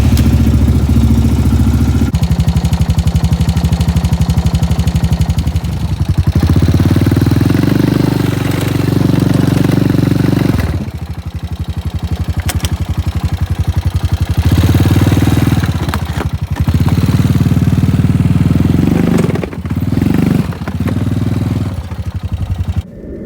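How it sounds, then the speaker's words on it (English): A 2013 Honda Rancher 420 ATV engine idles steadily to warm its oil, a close, continuous mid-pitched rumble with light mechanical clatter and occasional small shifts in tone, with no talking. "I'm gonna crank it up and just kind of let it run a little bit just so the oil gets warm"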